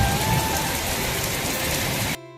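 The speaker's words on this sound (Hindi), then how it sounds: "देखो कितनी तेज बारिश आ गई है हमारे यहाँ पे, और ठंडा ही हो रहा है यहाँ का मौसम" Heavy, windy rain in the Kumaon hills pours down as a dense, loud hiss, steady and close with no speech, then cuts off abruptly at the end.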